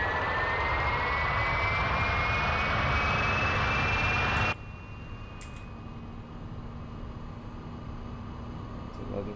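Boeing 777-300ER jet engines at takeoff power in X-Plane 11: a loud, steady roar with a rising whine that abruptly drops to a quieter, duller hum partway through, with a few faint clicks.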